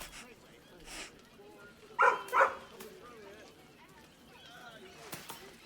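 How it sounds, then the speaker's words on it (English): A dog in Baldur's Gate 3 gives two short close yips or whimpers over quiet ambient game sound, with faint talk around it. "It's just a dog."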